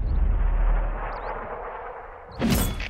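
An FV403 self-propelled artillery gun firing in the World of Tanks game: a deep booming blast rolling off into a fading rumble, then a second sharp, loud report near the end.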